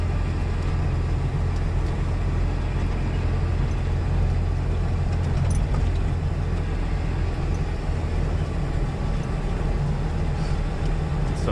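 Big trucks and bulldozers pass on a road near a construction delivery site, a constant low rumbling roar of heavy engines heard steadily from inside a cab.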